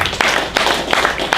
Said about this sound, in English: So please, a round of applause for Sarah as well